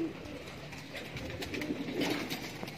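Young pigeons flown outdoors during a training session, with soft cooing and wing flutter over a breezy open-air background, fairly faint and continuous.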